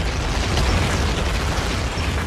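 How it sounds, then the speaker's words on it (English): Artillery shell explosions during the D-Day bombardment in Normandy, a dense, continuous rumbling barrage of booms with no talk. "Now comes bombardment by artillery."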